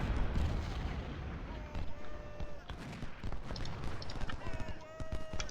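Distant cannon and artillery fire from an Ultimate General: Civil War battle booms softly in scattered reports, blended with battlefield din and faint horse hooves, low and continuous in the background.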